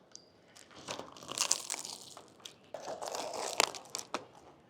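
Crisp, buttery twisted doughnut being bitten and chewed up close, giving several sharp crunchy crackles in two bursts, with no talking.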